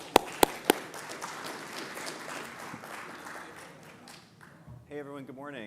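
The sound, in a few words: applause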